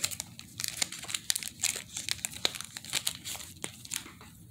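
A pack of Panini Prizm basketball cards is torn open, giving close crinkling and tearing of cellophane wrapper in quick irregular bursts, with no talk.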